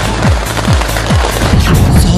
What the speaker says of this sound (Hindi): आतिशबाजी,